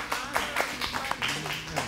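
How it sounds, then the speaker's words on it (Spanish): A studio audience claps to welcome panelist Marisa Murcia onto a television talk show, a rapid patter of hands swelling in a few bursts over about two seconds, with faint music-like tones underneath. "vamos a recibir con un aplauso justamente a la primer panelista"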